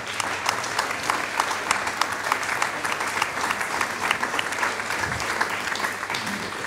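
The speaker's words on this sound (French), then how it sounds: "On peut les applaudir très fort." Sustained applause from a seated audience at a round-table discussion on self-determination, a dense steady patter of many hands clapping for nearly seven seconds without a break.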